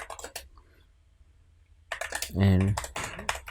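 Typing on a computer keyboard while entering a ChatGPT prompt for an ebook outline; a short burst of key clicks comes between stretches of speech, with a voice talking before and after.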